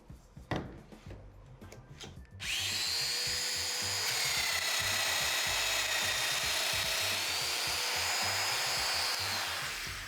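A Festool Domino joiner cuts into plywood while building a mobile MFT cart, a few faint knocks giving way to a loud, steady high-pitched motor whine with cutter rasp that holds without a break to the end.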